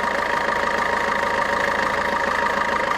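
A 2018 Maruti Suzuki Ertiga VDI diesel engine with about one lakh kilometres on it idles steadily up close, a continuous even rumble with a fine rhythmic knock and no voices.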